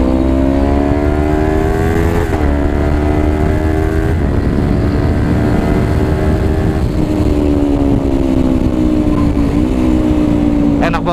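A Kawasaki Ninja 250 FI motorcycle fitted with a quick shifter is ridden on the road, its loud engine note stepping down through several quick downshifts with brief rev changes between gears, close and continuous.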